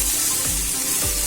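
Tender okra (ladies finger) sizzles steadily in a pan on a low flame, with a couple of soft scraping stirs cutting through the constant frying hiss.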